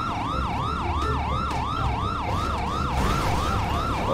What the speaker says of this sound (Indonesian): Oh, ini ambulannya datang.